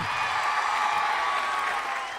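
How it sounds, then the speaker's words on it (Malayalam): An audience claps together in a steady, dense patter that fills the whole moment, like a studio crowd at a televised college event. "ഒരു നല്ല കൈയടിച്ചേ"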